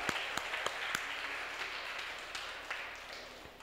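A church congregation at a Filipino worship service applauds in praise, a steady wash of many hands with a few sharper claps standing out, moderately distant and fairly soft.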